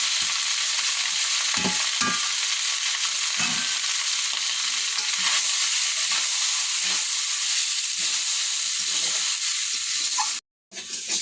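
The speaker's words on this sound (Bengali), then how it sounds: "ওদিকে কড়াইতে ঘি দিয়ে দিচ্ছে ভাতটাকে ভেজে নেওয়ার জন্য" Rice frying in ghee in a kadai gives a steady, dense sizzle lasting throughout, with a few soft stirring knocks early on and a brief drop to near silence just before the end.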